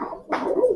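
A male pigeon gives a short, low coo up close, a brief throaty burst lasting under a second.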